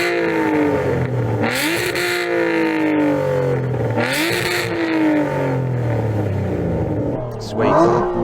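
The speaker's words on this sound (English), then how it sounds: "Okay, let's do a sound check. Go on, rev yours up." Aston Martin sports car engines rev hard in three loud surges, each climbing in pitch then dropping back to a steady, throaty idle.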